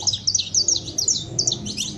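Small birds, the caged kind, chirp in rapid, high, bright tweets, a dense run of short calls repeating steadily throughout, fairly close and clear with no talking.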